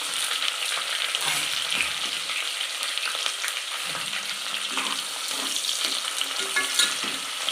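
Sliced onions and a bay leaf fry in oil for a vegetable biryani, a steady dense crackling sizzle with occasional stirring scrapes, close and continuous without talk.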